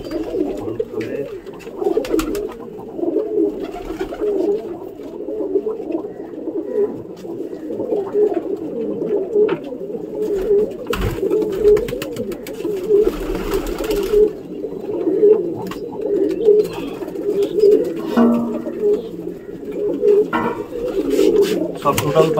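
A flock of pigeons coos continuously and fairly loudly at close range while water is put out for them, the rolling calls overlapping in a steady pulse, with someone talking at times over them.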